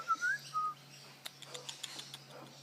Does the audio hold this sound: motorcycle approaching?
no